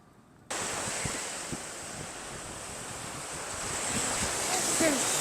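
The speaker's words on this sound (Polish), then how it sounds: "Tylko ta fala, o, jest wsteczna, wciąga do morza" Sea waves wash onto a shore in a broad, continuous rush of surf, loud and close, with wind buffeting the microphone and the roar swelling slightly toward the end.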